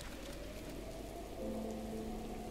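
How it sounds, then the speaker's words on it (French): Steady rain falls in the game Zelda Breath of the Wild as a continuous hiss at moderate level, with a faint musical tone sustained underneath and no talk. "comme il pleut"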